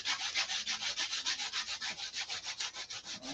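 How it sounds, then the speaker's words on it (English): Steady back-and-forth sanding on wood, about six strokes per second, close and even, with a dry rasping texture and no voices. "keep sanding."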